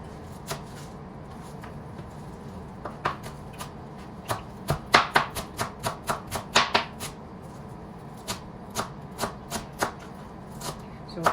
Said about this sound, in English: now we're going to chop up the dill and the parsley